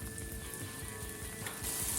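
Water hits fried ginger-garlic paste in a hot pan for chicken bhuna, giving a close, continuous hissing sizzle that swells slightly toward the end.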